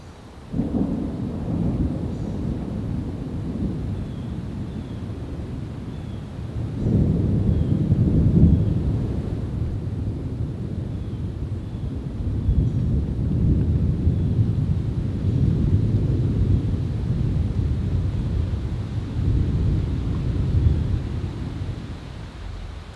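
Thunder rolling through a forest during an intense storm in Japan, long deep rumbles swelling and fading with constant wind noise, no other sounds, lasting throughout.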